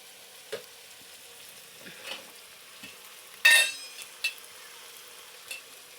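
Gobi manchurian masala frying in a pan, stirred now and then, giving soft sizzling under a few scraping strokes and one sharper clink, fairly quiet and without talk.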